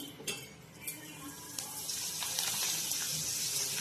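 Papad frying in hot oil with a steady sizzle that grows denser and louder, with a few light clinks and stirring sounds near the start.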